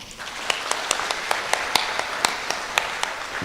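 Applause from a small audience at a jubilee talk, heard as scattered, fairly sparse claps with distinct individual hand strikes popping out over a soft bed of clapping, no voices.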